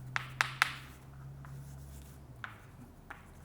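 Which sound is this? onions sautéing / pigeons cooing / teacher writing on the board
teacher writing on the board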